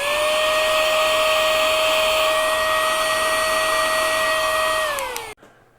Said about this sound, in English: there's this little handheld vacuum I've got. It's perfect for dusting off turntables and tube amplifiers